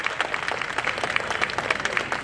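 An audience at a cultural gathering claps continuously, a dense patter of many hands, moderately loud and steady for a couple of seconds without voices over it.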